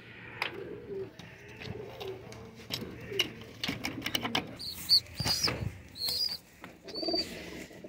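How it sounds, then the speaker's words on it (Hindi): Small teddy pigeon chicks in a loft give soft, repeated chirps and coos mixed with wing flutters and shuffling, close by and fairly loud, with higher peeps breaking in toward the end. "बिल्कुल अभी चूं चूं करते बच्चे हैं दोस्तों"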